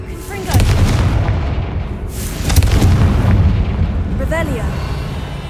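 Confringo fire spell blasts in Hogwarts Legacy land as repeated heavy booming bursts with rumbling tails, loud and close, with brief whooshing bits mixed between them.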